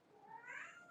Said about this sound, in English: my cat is just like screaming at me